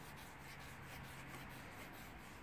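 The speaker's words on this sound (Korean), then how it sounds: "아주 부드러운 사포로 반짝이는 부분만 이렇게 문질러 주고," Soft sandpaper rubbed over the shiny part of an old sewing machine's metal needle bar during repair, a faint, steady scratchy rubbing with a quick repeating back-and-forth pulse, close and alone without speech.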